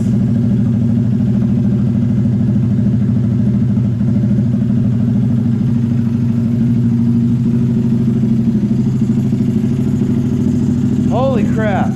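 A 149cc Honda Grom motorcycle engine idles steadily and loudly up close just after its first start, a constant low thrum that runs throughout, with a brief whistling sound near the end.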